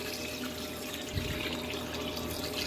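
Water pours steadily into a pot of pork noodle soup, a continuous splashing rush that holds for a few seconds, close and fairly loud.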